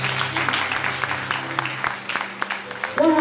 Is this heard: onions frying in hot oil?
no